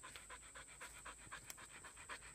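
A dog pants rapidly and steadily in a quick rhythmic series of breaths, close and fairly quiet, with no talk over it, set in the Louisiana woods.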